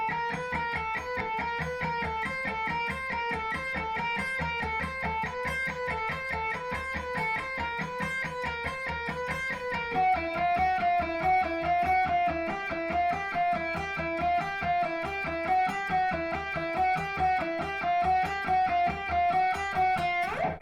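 Electric guitar legato exercise with alternate picking starting on an upstroke, a fast steady stream of even notes with a sustained tone, repeating a pattern that shifts position halfway through.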